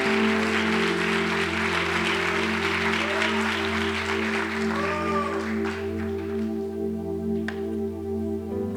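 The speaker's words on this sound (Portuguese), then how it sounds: "Aplauda Jesus, irmão." A church congregation applauds during a worship service, with steady, sustained clapping over a constant droning musical background that continues throughout.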